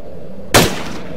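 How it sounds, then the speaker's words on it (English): A single sharp gunshot from a game gun in the open-world survival horror game Frequency, built in Unity 3D: a loud close crack with a short decaying tail, standing alone with no talk. "As you can see, the gun kicks pretty well, but it's pretty good for headshots."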